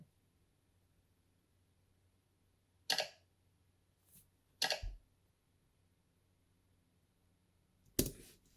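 Short, crisp clicks used as a sound effect for an animated YouTube subscribe button, four sharp isolated ticks spaced unevenly over near silence, the last one loudest.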